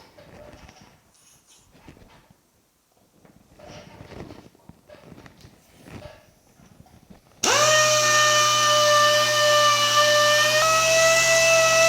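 A buffing wheel polishes a small part from a 1950 Chevy truck, starting after several seconds of quiet handling and clatter, then running as a loud, steady motor whine with a slight dip in pitch near the end.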